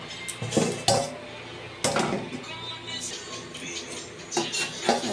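Lid lifted off a cooking pot of spinach dalna, a few loud metallic clanks and clinks of pot and utensils over a faint background sizzle.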